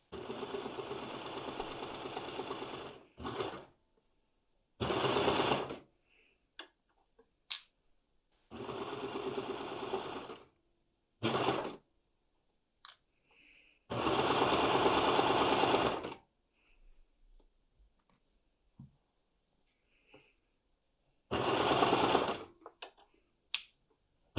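A sewing machine stitches godets into a top in about six separate loud runs of rapid whirring, with quiet pauses and small handling clicks in between.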